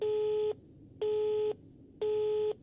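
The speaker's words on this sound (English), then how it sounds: "And there's the inevitable phone call." A phone signal in the indie horror game Rise of Insanity, heard as three evenly spaced half-second electronic tones separated by silence, clean and loud with no voices.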